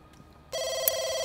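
A telephone in The Sims 2 video game starts ringing partway through with a sudden, steady electronic tone that holds at an even loudness to the end, close and clear.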